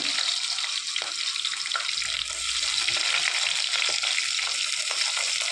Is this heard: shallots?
yes